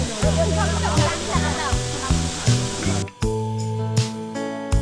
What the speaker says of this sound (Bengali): মোটামুটি উঁচু থেকেই অবিরত জল ঝরছে মাটিতে